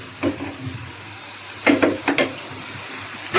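Potatoes fry in hot oil with scattered short crackles and spits, a few sharper bursts in the middle and at the end, over a low steady sizzle; no one speaks.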